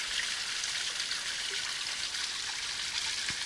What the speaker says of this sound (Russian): ручей, откуда ни возьмись, появился у нас на дороге